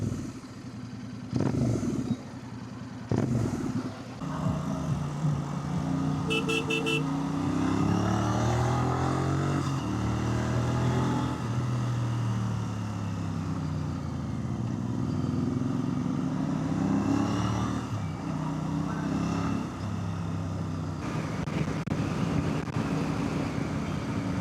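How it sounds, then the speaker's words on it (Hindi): Motorcycle exhaust rumbling steadily while riding, the engine droning and shifting pitch as it accelerates and eases off, with wind and road noise around it. "let's continue listening to the exhaust sound"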